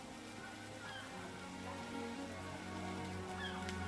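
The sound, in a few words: rain falling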